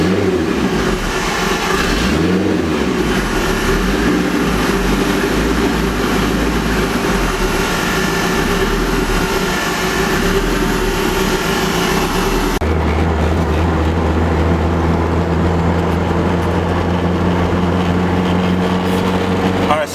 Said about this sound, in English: It does it like when I first warm it up, but I rev it out